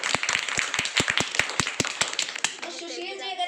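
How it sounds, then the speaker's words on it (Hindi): Sparse claps from an audience, a few hands striking in an uneven rhythm, before a voice takes over near the end. "जोरदार तालियां हो जाएंगी"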